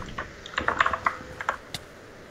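Rapid bursts of keystrokes on a Razer computer keyboard, clicking in a quick irregular rhythm with brief pauses, close and clear with no talk.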